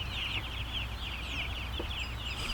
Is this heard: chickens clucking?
yes